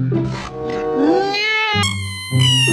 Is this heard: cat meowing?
yes